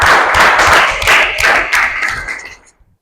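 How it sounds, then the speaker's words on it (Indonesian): A classroom group claps for a student named Roli, a dense burst of applause that tapers off and stops within about three seconds. "Tepuk tangan buat Roli"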